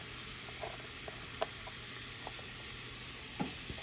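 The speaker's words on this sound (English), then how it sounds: "we're gonna just saute these up in the bacon grease and give this a little more flavoring" Chopped red onion, green pepper and garlic sautéing in bacon grease, giving a steady soft sizzle with a few light clicks of stirring, close by and with no talk.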